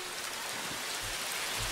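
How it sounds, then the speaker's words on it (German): Heavy rain in the video game Life Is Hard, a steady, loud wash of hiss filling the whole moment with no break, accompanied by a few low thuds. "jetzt ist wieder dieser mega laute Regen"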